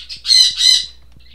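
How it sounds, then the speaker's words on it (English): A bird in the Stardew Valley video game gives two loud, shrill squawks in quick succession, each lasting about a quarter second, then fades to quiet. "the bird is screeching"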